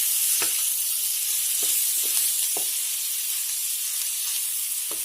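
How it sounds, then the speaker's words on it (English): A steady frying hiss from meatballs cooking in olive oil, broken by several soft pops and spatters at irregular intervals. "now you're starting to hear that sizzle, right? You hear that sizzle?"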